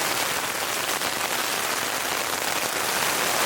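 Heavy storm rain from an atmospheric river pounds a Tarptent Scarp 1 tent in a dense, unbroken roar of drops on the fabric, loud and constant throughout with no voices.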